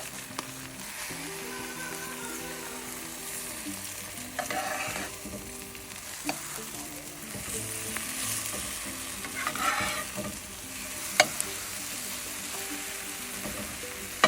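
An egg omelette with tomatoes and mushrooms sizzles in a frying pan, a steady fry with scraping and stirring of a spatula and a few sharp clicks near the end.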